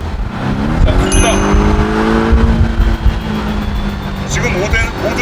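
A Porsche 718 Boxster GTS pulls away hard on a hilly road near the Inje Speedium, its engine note climbing through gears loud and close, then easing as it shifts, with no talk over it.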